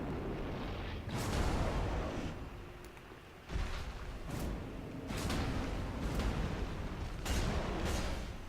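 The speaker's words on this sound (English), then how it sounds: "Okay, that's an explosion move." A boss in Dark Souls 3 unleashes an explosion attack, a series of loud booming blasts with whooshing bursts that hit at irregular intervals, a heavy roar rumbling between them.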